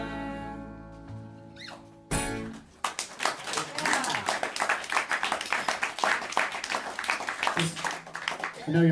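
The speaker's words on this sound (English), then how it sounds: "I know y'all just clapped" Audience applause at a small live show in Concerto record store, Amsterdam: a held musical chord ends, then a burst of close, lively clapping with a few cheers carries on for several seconds.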